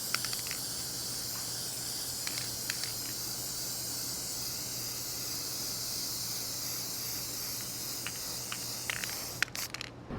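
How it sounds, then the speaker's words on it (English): A thin layer of paint is sprayed onto a guitar, giving a faint, steady high hiss throughout, with a low background hum and a few light clicks and taps near the end. "So I'm gonna put another thin layer of paint on"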